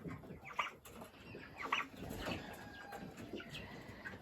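Soft, distant turkey calls and gobbling chatter from a group of farm turkeys, faint against a low outdoor background.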